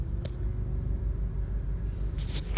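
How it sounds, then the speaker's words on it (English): A person's own first car gives off a low, steady engine rumble up close, with a couple of brief sharp clicks or knocks breaking through near the start and end. "But this is my car. It's making all the noises."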